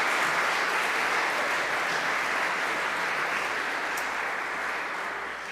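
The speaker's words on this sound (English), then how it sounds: "let's have a little applause for them too" An audience at a school athletic awards ceremony claps in a sustained, dense round of applause that fills the room and tapers slightly toward the end.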